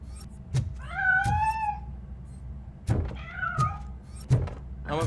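A cat in Robocop Rogue City meows twice, clear and close with rising, wavering cries, between dull thunks and mechanical clunks.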